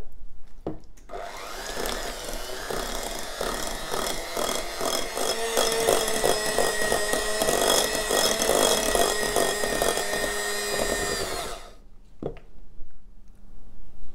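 Electric mixer whirring steadily for about ten seconds as cheesecake cream is blended with melted white chocolate in a bowl, loud and continuous, then cutting off with a brief clatter near the end.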